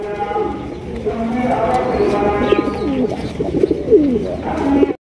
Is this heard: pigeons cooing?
yes